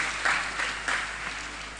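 Brief applause from an audience at an Islamic pesantren year-end gathering, a short burst of clapping with a few swells that stays moderately loud and then fades.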